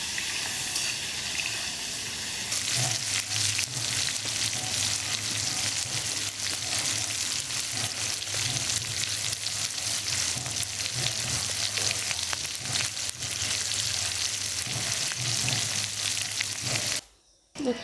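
Prawns coated with salt and turmeric frying in oil for a chingri malai curry, a loud sustained sizzle with stirring scrapes and bursts of spitting, close by, cutting off briefly near the end.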